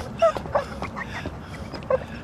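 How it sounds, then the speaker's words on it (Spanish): An injured dog, hurt under a car's wheels, whimpers in short high cries, a few thin yelps over a murmur of background noise. "Un perro herido puede ser muy peligroso."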